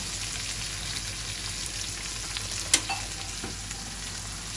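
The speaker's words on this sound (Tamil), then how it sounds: "இப்போ சீரகங்களை போட்டுட்டு சீரகம் கடுகு" Cumin and mustard seeds frying in hot oil give a steady, close sizzling hiss, with one sharp pop near the middle and a few smaller crackles after it.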